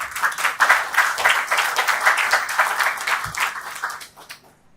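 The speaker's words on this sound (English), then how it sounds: "can you give a round of applause?" A seated audience at an SPE Lagos technical session breaks into loud, close applause for speakers and sponsors receiving gifts, sharp claps peaking early and then gradually tapering off to near silence.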